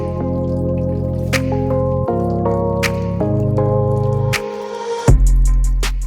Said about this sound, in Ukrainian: Як бачимо, фонтан дуже гарно працює.